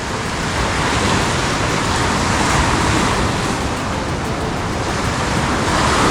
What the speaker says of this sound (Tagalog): Hindi siya ganong lakas na alon katulad kahapon